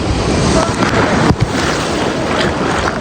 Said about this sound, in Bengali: গাইস সামনে যে বড় ঢেউটা আসছে দেখো